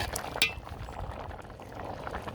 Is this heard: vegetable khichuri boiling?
yes